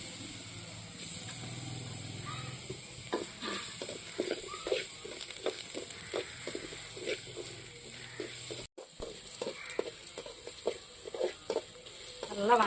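Coconut, curry leaves and red chillies with fenugreek being stirred in a pan for sambar, a steady close sizzle with repeated scraping strokes of a spoon and no voices.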